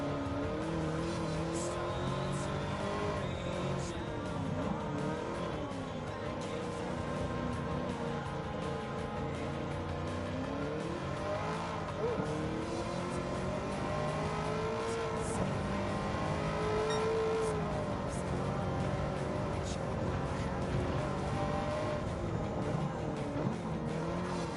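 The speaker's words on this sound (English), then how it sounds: "this is a really hard car to drive really fast in" Race car engines roar and tires squeal in the video game Gran Turismo 7 at speeds past 220 mph, with steady high revving and shifting pitch throughout and no break in the sound.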